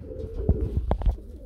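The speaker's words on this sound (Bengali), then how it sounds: "দেখতে পাচ্ছেন একজোড়া ফ্যান্ডেল কবুতর রয়েছে, খুবই চমৎকার" A pair of fantail pigeons coo up close in low, throaty bursts, several short soft coos clustered within a second or so, with no talking.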